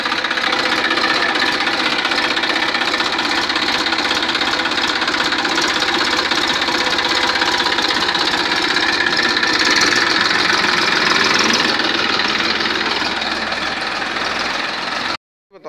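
A three-cylinder Massey Ferguson 241 DI tractor, a 2014 model in clean condition, runs close by with a loud, continuous diesel knock and rumble that holds steady for about fifteen seconds before cutting off sharply.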